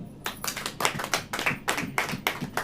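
Congregation at a church service clapping together in a steady rhythmic beat, about a dozen sharp claps across a few seconds at moderate loudness, with no speech.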